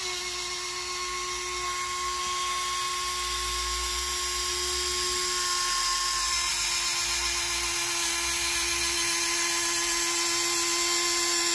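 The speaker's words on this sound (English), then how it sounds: "I'm just driving this off a servo tester right now." A servo folding the wing of an FMS 1700mm RC plane, driven by a servo tester on a weakening battery, gives a steady high electric whine that runs nearly unbroken over a low hum, close and fairly loud with no talk.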